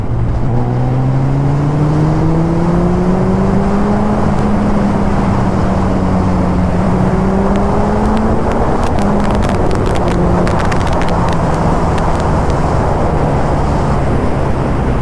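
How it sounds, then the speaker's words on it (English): A Suzuki Hayabusa sport motorcycle engine drones loudly and continuously while riding on a road, its pitch climbing and dipping as it accelerates and shifts, with steady rushing wind noise throughout. "I think it's a perfect day to ride this motorcycle."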